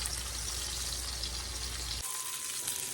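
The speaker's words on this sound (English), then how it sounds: "let's get this patty cooked and get it flipped" A burger patty sizzles steadily in a hot pan, a dense continuous frying hiss that drops to a thinner crackle near the end.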